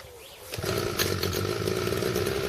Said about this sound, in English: now we're going to do some weed whacking